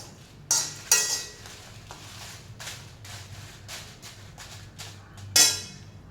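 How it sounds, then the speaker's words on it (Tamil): Chillies dry-roasting in a pan without oil for garlic pickle, with a few sharp metallic clinks and scrapes of stirring at the start and end over a quiet background. "எண்ணெய் இல்லாமல் பக்கத்தில் நின்று கொஞ்சம் பொறுமையாக இந்த மிளகாவையும் அப்படியே வறுத்துக்கோங்க"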